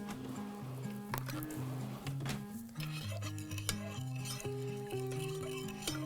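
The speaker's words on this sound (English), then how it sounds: "And 1/4 cup of soy sauce. I'm gonna give this a good stir." A spoon stirs sugar and soy sauce together in a pan for a Chinese lamb and eggplant dish, with light scraping and intermittent metallic clinks under steady background music.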